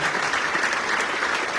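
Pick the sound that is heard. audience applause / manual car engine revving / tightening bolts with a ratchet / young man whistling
audience applause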